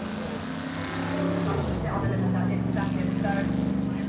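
Jaguar E-Type sports car climbing a hill at the Goodwood Festival of Speed, its engine revving up through a gear change and then holding a steady rising drone, with a commentator talking over it.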